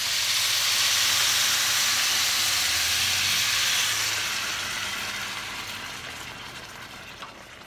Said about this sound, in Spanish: Ahora le vamos a agregar la salsa.